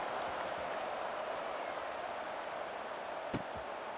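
A stadium crowd roars steadily before kickoff in EA Sports College Football 26, a broad continuous wash of distant cheering and applause at moderate level, with a short sharp click near the end.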